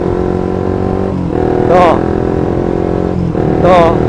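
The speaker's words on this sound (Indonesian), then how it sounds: "tutup gas sama tekan kopling langsung cungkit" Manual clutch motorcycle engine shifting up to second gear during riding practice at a traffic light, a steady close idle-like drone with two brief rev swells, a voice faintly present underneath.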